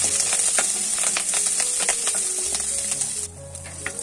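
Onion, garlic and curry leaves sauté in a hot pan for a chow chow chutney, giving a loud, steady sizzle close by with scraping stir strokes throughout.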